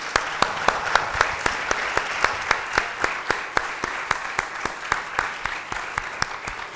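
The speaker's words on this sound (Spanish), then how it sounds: "Un aplauso." A conference audience in Spanish-speaking Latin America claps in unison after a lecture on work not being a commodity; the sharp claps fall in a steady, even rhythm of about three per second over a soft crowd murmur.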